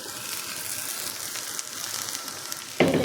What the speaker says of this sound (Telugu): శనగగింజలు, ధనియాలు, కరివేపాకు, పచ్చిమిరపకాయలు, చింతపండు, కొద్దిగా కందిపప్పు అన్నీ వేసాను.